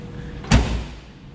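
A single solid thud as the door of a 1976 MG MGB, a slightly tight-fitting door, is swung shut, close and brief with a short low rumble after the impact.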